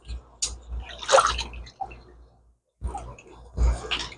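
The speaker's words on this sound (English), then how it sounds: "I just throw it in the tank water here, and just squeeze it, just like that." A foam sponge squeezed in aquarium tank water, producing close squelching, gurgling and dripping sounds in a few separate bursts with short silences between them.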